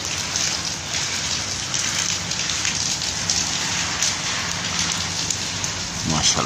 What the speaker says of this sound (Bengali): দেখেন আমাদের দুবাইতে প্রচুর পরিমাণে বৃষ্টি হচ্ছে, আকাশটা পুরো মেঘলা।